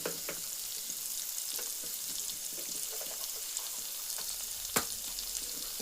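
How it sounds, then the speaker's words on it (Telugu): Green chilies and chopped onions sizzle and crackle steadily in a hot pan with oil, a constant close frying hiss with small pops and occasional light clinks throughout, no voices. "పచ్చిమిర్చి ఉల్లిపాయ వేసేసుకొని ఇవి కూడా వేగిపోవాలి"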